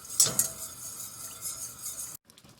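A spoon stirs cendol batter in a pot with close, continuous scraping and light metallic clinks for about two seconds, then stops abruptly into near silence.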